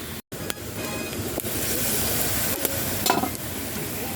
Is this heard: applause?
no